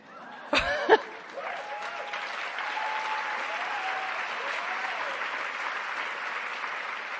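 An audience in a room full of women breaks into sustained applause after a couple of sharp louder claps at the start, the clapping steady and fairly close, with faint cheers mixed in.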